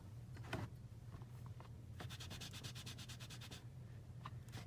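Ink being gently rubbed onto card through a stencil mask, a soft, faint scrubbing with a quick rhythmic run of short strokes in the middle, close and quiet against a low steady hum.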